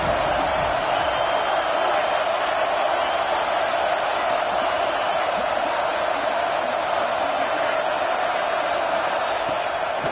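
An Auburn football stadium crowd roars on third down, a steady, dense wall of cheering and shouting that holds unbroken throughout, with no single voice standing out.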